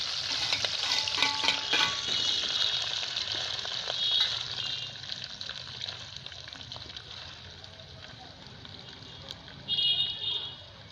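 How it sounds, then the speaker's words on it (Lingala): Fish fries in hot oil for a caterpillar dish, a loud crackling sizzle up close that slowly settles into a softer hiss, then flares briefly again near the end, with no voices. "Natie mbisi na ngai ekalinga na boto"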